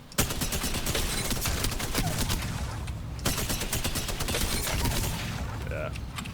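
Spitfire light machine gun fires in Apex Legends in rapid, sustained bursts, loud and dense, with brief gaps, over several seconds of continuous gunfire.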